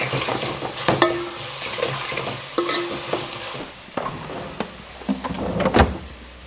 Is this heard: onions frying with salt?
yes